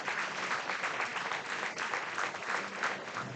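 A crowd claps steadily at a youth baseball game in Firecracker pool play, Post 22 Hardhats against the Rocky Mountain Lobos, the applause dense and sustained at moderate distance throughout.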